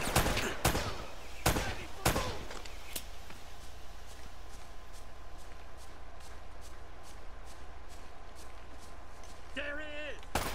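Several sharp gunshots crack in quick bursts in Uncharted: Drake's Fortune during a firefight with enemies, loud and close at first, then fainter scattered shots over a steady ambient rumble.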